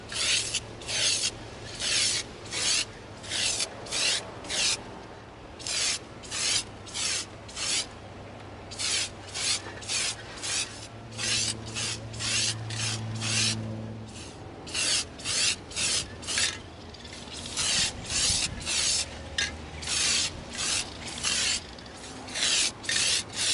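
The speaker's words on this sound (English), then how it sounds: "We're going to spray our Lost in Space blaster with our flat antique nickel." Flat antique nickel spray paint is applied at an outdoor spray stand to an EVA foam Lost in Space blaster in many short, rhythmic hissing bursts. Brief pauses separate the bursts, and there is a longer steady spray midway.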